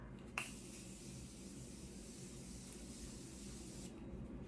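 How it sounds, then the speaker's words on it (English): A click, then a steady hissing spray from a makeup setting spray pump bottle runs for about three and a half seconds, soft and close, before stopping. "love the setting spray"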